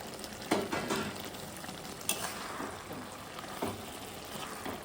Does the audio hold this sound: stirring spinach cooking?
yes